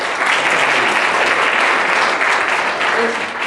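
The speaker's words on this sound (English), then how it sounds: "So let's give a round of applause for Manjuri." A crowd at a talent show claps loudly and steadily for a performer, a thick continuous wash of applause with no break throughout.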